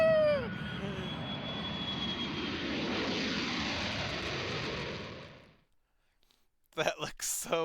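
Jet aircraft engine in Yakuza 3 Remastered on a flight from the airfield to Okinawa, a loud sustained roar with a falling whine that fades out after about five seconds, followed by brief clattering noises.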